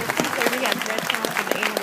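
Audience applause breaks out after a spoken fairy-tale performance, a steady wash of clapping over nearly two seconds with a voice talking over it.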